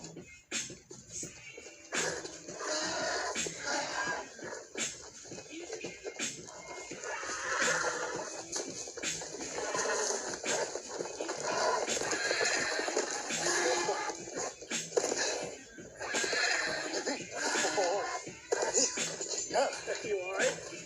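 Horse whinnying and neighing in a hot, busy outdoor setting, with people talking over it throughout and a steady background of voices and movement.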